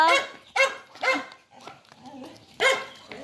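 A dog barks several times in close, sharp bursts outdoors in a village, a few louder yaps spaced unevenly over a few seconds.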